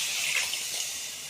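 Water poured into a cooking pot of black-eyed peas and rice, a steady, close, splashing gush that stays even throughout the clip.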